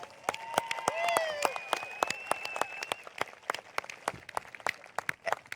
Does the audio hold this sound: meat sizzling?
no